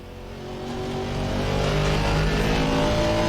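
Racing video game audio of a V8 Aston Martin race car: a steady, loud, rising engine drone with harmonic whine that builds over the first second and then holds strong and continuous.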